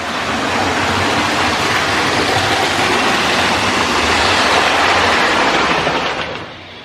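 A fast toy train runs on its track in a toy museum in Branson, Missouri, giving a loud, steady rushing clatter for several seconds before it drops away at the end.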